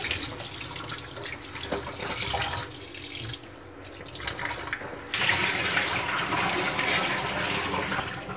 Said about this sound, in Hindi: आप इस रनिंग वाटर में इसको इस तरह से वॉश कर लीजिए पूरा